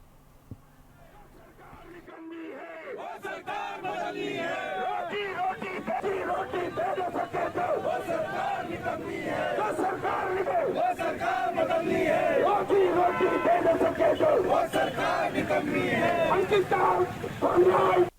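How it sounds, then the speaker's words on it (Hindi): A protest crowd in Uttarakhand loudly chants slogans against the BJP government. The chanting starts faint and swells into a dense, roaring mass of voices that holds steady and builds toward the end. "भाजपा सरकार के खिलाफ जोरदार नारेबाजी करते हुए मांग भी की गई"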